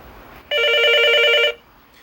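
A telephone bell rings once in a loud, steady burst of about a second, alone in a quiet room before and after.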